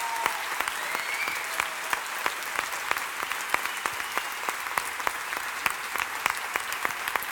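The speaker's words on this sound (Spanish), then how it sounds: "Un aplauso." A large audience at a talk applauds steadily, with a dense wash of clapping and sharp individual claps recurring in a near-regular rhythm throughout, with no speech on top.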